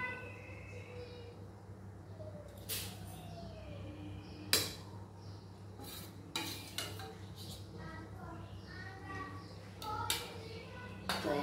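Fresh cream being stirred into palak paneer in a pan, with a spoon clinking and scraping against the metal in scattered taps over a steady low hum.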